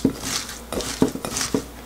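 Bellflower root rubbed and kneaded by hand with a spoonful of salt, giving a series of soft, wet squishing and patting strokes in an uneven rhythm, close and clear with no talk.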